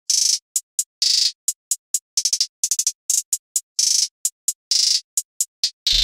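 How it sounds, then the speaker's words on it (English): Trap hi-hat pattern programmed in FL Studio, crisp bright ticks in uneven bursts with fast rolls and stutters between steadier hits, loud and dry with no other instruments. "But let's just hear this hi-hat real quick."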